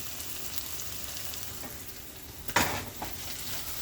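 Cheese steak being stirred together with melting cheese on a hot griddle, a steady sizzle with scraping spatula strokes and one sharp metallic clank partway through.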